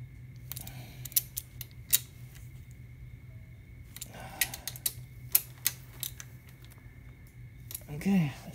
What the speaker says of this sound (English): So one last torquing down.